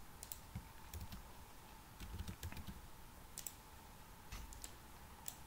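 Keys clatter on a computer keyboard during coding, scattered bursts of clicks arriving in irregular clusters at close range over a steady low hum, with no voices.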